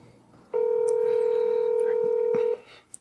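A steady electronic phone tone plays during a call being placed, one loud sustained pitch lasting about two seconds, faint room noise and a brief voice sound around it.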